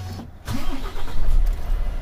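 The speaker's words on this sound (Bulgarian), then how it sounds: "Палиме камиона." A heavy truck engine cranks and turns over, then settles into a steady low rumbling idle, close by with no talking.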